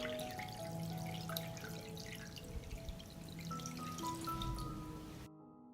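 Water trickles and drips into a deep pot holding glass jars of preserved tomatoes and peppers, a continuous splashing pour with clinks and tonal ringing, ending abruptly.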